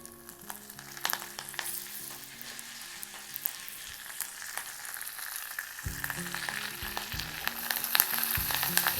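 Curry leaves crackling and spitting in hot oil, a quiet but busy sizzle full of tiny sharp pops, with low metallic clinks and scrapes from the pan throughout.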